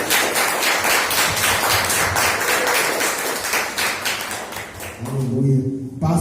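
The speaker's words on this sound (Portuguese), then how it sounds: "Vamos receber o pastor com as palmas para Jesus." A church congregation claps to welcome the pastor, a steady burst of loud group applause that fades near the end as a voice begins speaking.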